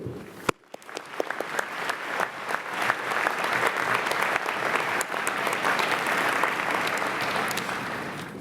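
Commencement audience applauds to welcome the speaker to the podium: after a brief sharp sound, a dense, steady wave of clapping builds and holds loud throughout.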